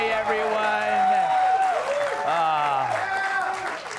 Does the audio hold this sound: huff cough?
no